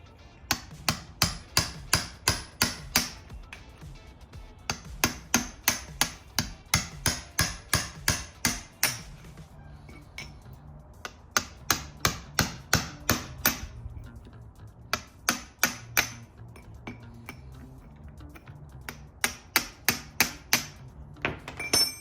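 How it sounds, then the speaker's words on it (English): Repeated hammer blows drive a chisel between a differential casing and an axle stub on an S14 drift car, sharp metallic strikes in quick bursts of several hits separated by short pauses, loud and close with no talk. "take our chisel, basically put it between the diff casing and our axle stub, and give it a couple whacks"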